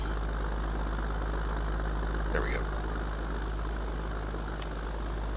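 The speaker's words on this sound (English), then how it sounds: "Great little Deutz tractor." A Deutz tractor engine idles steadily in Farming Simulator 19, a constant low drone running throughout, with a brief spoken remark over it partway through.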